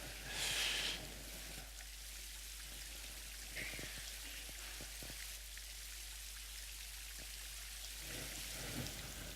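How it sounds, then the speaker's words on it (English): Steady rain falls outdoors near an old village in Yangshuo, a soft continuous hiss with scattered faint drips and taps, distant and low in level. "And it always rains in that weather."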